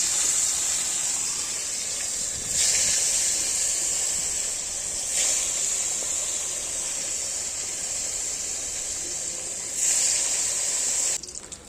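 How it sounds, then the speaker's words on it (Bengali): Marinated fish fries in oil during rooftop cooking, making a loud, continuous bright hiss for several seconds that swells briefly every few seconds. "মাছ দিচ্ছি, মাছ ভাজবো জায়গাটা।"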